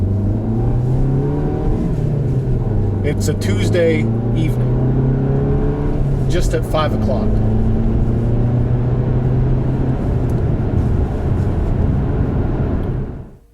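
A Volkswagen GTI front-wheel-drive car cruising through busy evening town traffic, its steady engine hum and road drone filling the cabin throughout, with the driver talking over it before the sound cuts off at the end.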